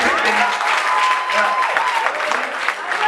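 Church congregation applauding the Lord, a steady wash of dense clapping with cheering voices mixed in, filling the whole stretch at an even, fairly loud level.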